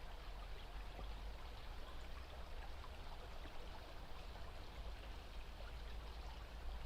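Water trickles steadily into an outdoor pool, a soft, continuous, even wash of flowing water heard faintly and alone.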